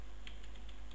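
Quick, light keystrokes tap on a computer keyboard, a short run of soft clicks close by with no voices.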